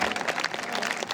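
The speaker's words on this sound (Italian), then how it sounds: "Facciamogli un applauso." Brief burst of applause from a crowd at a Sardinian folk dance gathering, honouring a young dancer, dense clapping close and steady without pause.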